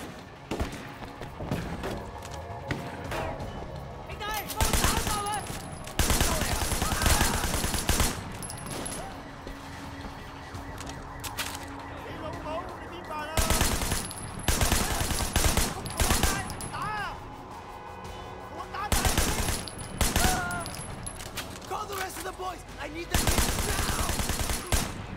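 Shotgun and assault rifle fire during a docks shootout in Sleeping Dogs, coming in several loud separate bursts between quieter stretches of game ambience and occasional talk.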